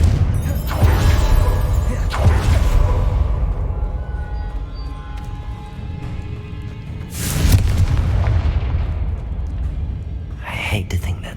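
A Confringo fire spell explodes in the video game Hogwarts Legacy, heavy booming bursts with long rumbling tails that swell and fade across the scene, loud and close, with a voice speaking over it.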